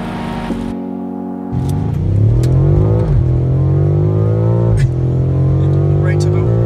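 A recent BMW M5 with automatic transmission accelerates hard, engine pitch climbing through several rising sweeps with quick shift breaks, loud and close from inside the car, voices speaking over it.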